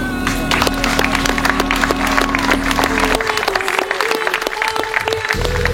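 Wedding guests at a ceremony break into loud, sustained applause, dense clapping from a nearby crowd over a tonal musical backdrop that shifts midway.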